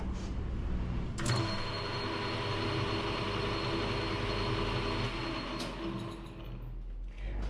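A metal lathe spins a spider held by only two set screws, giving a steady, loud mechanical drone with a faint whine and a couple of brief knocks.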